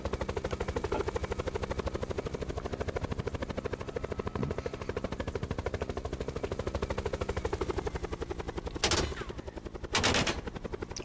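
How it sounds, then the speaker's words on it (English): Rapid automatic gunfire in a video game, a continuous loud machine-gun rattle that runs throughout, punctuated near the end by a couple of sharper, louder blasts. "Shots fired! Shots fired!"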